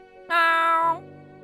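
A single drawn-out cat meow from an animated quiz show, loud, clear and close, lasting about half a second over a faint background tone.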